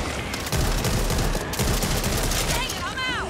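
Rapid, loud automatic gunfire from the co-op shooter video game Back 4 Blood rattles in continuous bursts up close, with a few brief game sound effects near the end.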